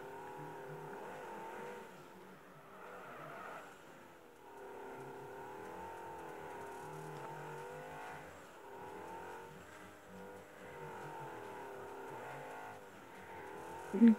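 A car drifts in a racing video game, its engine whining and wavering in long sliding sweeps, rising and falling through repeated drifts at a fairly low level with a brief thump at the end.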